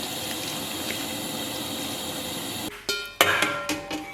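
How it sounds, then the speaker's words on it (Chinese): Broth is poured over layers of stewed beef tendon and braised beef: a steady liquid stream for several seconds, then clinks and splashes as the pouring stops and the pot is handled. "然后咱们再给里边来点汤"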